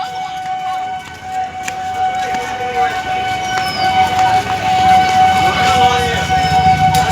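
A passenger train pulling out of Amghata station: rumbling wheels and carriage noise with a sustained whistle-like tone, loud and close, and a voice speaks over it.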